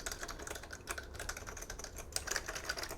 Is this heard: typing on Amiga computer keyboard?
yes